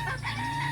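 A backyard rooster crows loudly and close in one sustained call, with flock hens clucking in the background, on a hot summer day.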